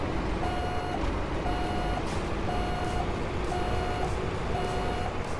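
Steady electronic reversing beeps from a truck in American Truck Simulator repeat about once per second over a constant loud engine drone, with no talking.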